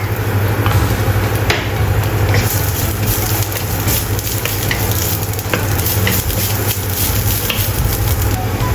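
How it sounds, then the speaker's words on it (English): Chopped ginger stir-frying in a hot wok, a loud continuous close sizzle with scattered clanks and scrapes of the spatula tossing the pieces, steady throughout with no voices. "Stir-fry chopped ginger."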